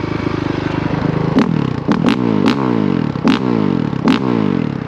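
A Honda CRF450RX dirt bike engine revs loudly and close, its pitch sweeping up and down in repeated bursts with sharp clattering snaps between.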